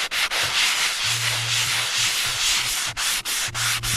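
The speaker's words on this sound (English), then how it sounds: "Let's see what it looks like when you sand on it." Primer on a truck cab is sanded by hand in steady back-and-forth rubbing strokes, a close, continuous scratchy hiss with brief pauses between passes.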